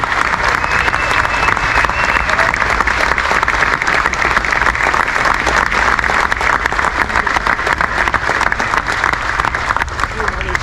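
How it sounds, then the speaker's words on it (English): Sustained, loud audience applause at a bass fishing hall of fame ceremony, honoring inductee John Murray, steady dense clapping throughout with crowd noise and some voices underneath. "Round of applause for John Murray,"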